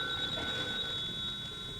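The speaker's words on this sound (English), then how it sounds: "Should I answer the phone, boss?" Old-time radio comedy sound effect of a telephone ringing, a steady bright electric bell tone heard alone for a moment.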